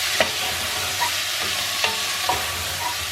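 Tripe being stirred in hot oil in a pot, with a steady low sizzle and a few sharp scraping knocks of the spoon against the pot, close and clear with no talk.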